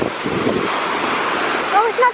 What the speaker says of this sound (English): Let's see what the sea's like.